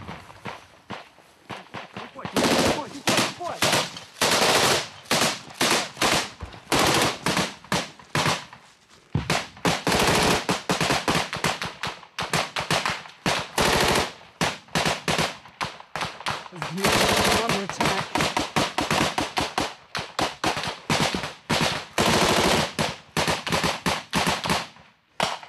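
Close-quarters combat gunfire in Donbas, Ukraine: repeated loud bursts and volleys of automatic and single shots in uneven clusters close by, with people talking and moving amid the firing.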